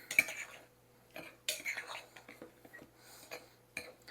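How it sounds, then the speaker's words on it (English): Cornbread batter with baking powder and baking soda stirred in a bowl: intermittent scraping and clinking of a spoon against the dish in close, quiet bursts, with a voice speaking softly between strokes. "And we're going to mix this all up together."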